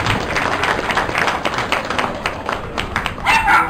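A crowd at a dog park opening event applauds the city engineering department, with a brief burst of dense, close clapping lasting a few seconds.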